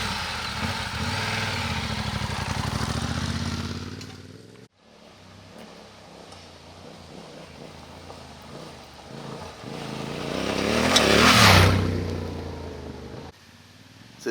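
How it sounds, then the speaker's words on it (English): A Yamaha Tenere 700 motorcycle's engine runs steadily nearby, then revs and swells louder as the bike rides off and pulls away, with the sound fading at the end. "this is Clubby's first couple of 100 metres on my bike"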